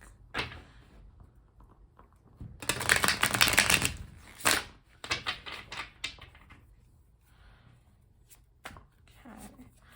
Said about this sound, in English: we'll do one other shuffle here and then we'll just cut the deck.